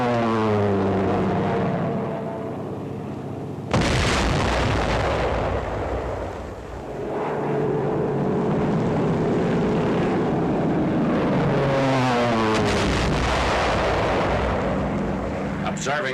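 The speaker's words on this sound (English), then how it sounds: "Dive bombers of the 10th and 14th American Air Forces attack heavily fortified enemy positions." WWII dive bombers of American air forces attacking fortified positions along the Burma Road, with roaring aircraft engines and heavy booming explosions, loud and sustained, a narrator's voice running over parts.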